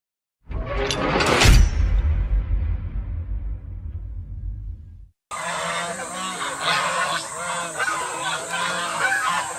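Loud, raucous honking from a group of geese at a market, repeated and overlapping up close, then a cut to more honking and cackling birds with background noise.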